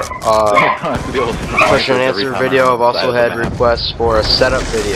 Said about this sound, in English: Sorry for the dogs barking, guys.